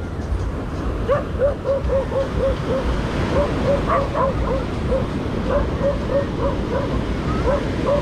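Several dogs bark in a regular string of yips across a Bali beach at dusk, moderately close, over a steady wash of surf and wind.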